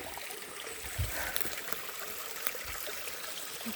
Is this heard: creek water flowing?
yes